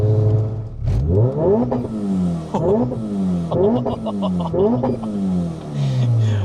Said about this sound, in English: That is a high revving car.